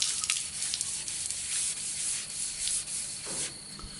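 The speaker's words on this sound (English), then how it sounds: "sand the panel with 1000 grit. Just knocking off the high ridges and knocking off the crowns of the orange peel." A Toyota Landcruiser 200 Series bonnet panel is wet sanded with 1000 grit paper, giving a continuous close scratchy rubbing. Stroke pulses recur steadily throughout, and no voices are heard.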